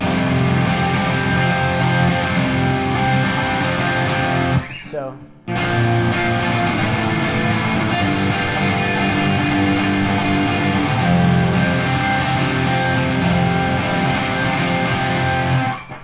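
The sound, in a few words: electric guitar played with distortion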